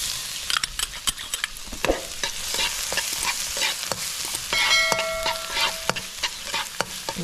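Garlic sautéing in a pan at a backyard cook, with steady crackling sizzle and occasional stirring scrapes and clinks running continuously, fairly close.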